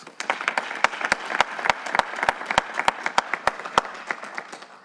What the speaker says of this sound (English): give them and yourselves a round of applause